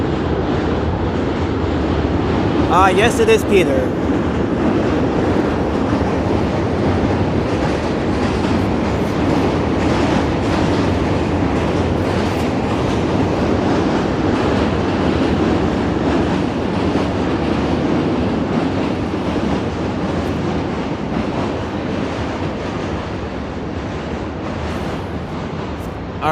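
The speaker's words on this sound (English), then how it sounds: "We can see another train, or we can just hear another train passing by." A New York City subway train crosses the Manhattan Bridge with a loud, continuous rumble and rattling wheels that fill the whole stretch. A brief voice speaks near the start, underneath the roar.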